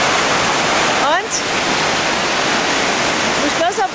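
Ocean waves roll onto the shore in Gran Canaria as a loud, steady wash of surf, with brief bits of a voice speaking over it.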